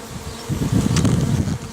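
Dense buzzing of honey bees swarming close by around a hive, a continuous droning hum that swells midway and holds steady.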